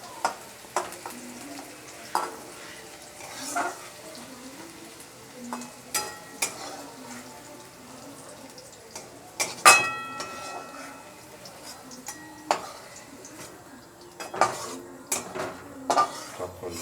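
Stir-fried vegetables for chow mein are tossed and scooped from a frying pan, with repeated sharp scrapes and clinks of a metal utensil against the pan over a soft background sizzle.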